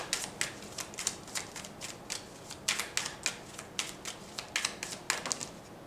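Tarot cards shuffled and flicked in quick, riffling bursts, a steady run of crisp papery snaps close by, with no voices.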